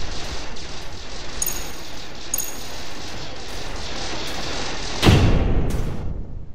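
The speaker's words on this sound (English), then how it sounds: "they've got their own point defense as well, which is making fairly quick work of our missiles" Point defense guns in the space strategy game StarDrive 2 fire rapidly at incoming missiles, a dense continuous crackle of gunfire amid battle noise, ending in a sharper explosive burst near the close.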